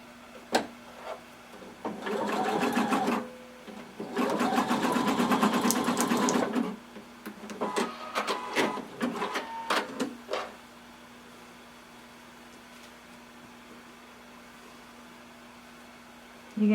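A sewing machine stitches down an elastic casing on a swimsuit in two long runs, then several shorter quick bursts, with quiet pauses between and a steady faint hum underneath.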